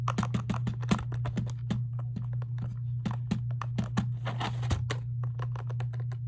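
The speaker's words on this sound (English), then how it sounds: "It's just a keyboard." Loud keys clatter on a computer keyboard in quick, irregular bursts of close clicks, heard over a steady low hum.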